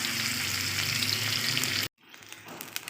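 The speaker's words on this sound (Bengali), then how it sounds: "তো দেখো চালটা ভাজা হয়ে গেছে" Basmati rice frying in oil for hilsa pulao, a dense loud sizzle that cuts off abruptly, followed by quieter clinks and faint kitchen sounds.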